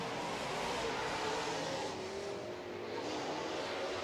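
Late model race cars roaring around a short track at night, a dense, continuous engine wash heard from a distance with shifting pitch as the pack circles.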